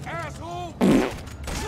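Gunfire in the video game GTA 5 Online, a loud burst of shots in the middle of the clip, with voices talking before and after it.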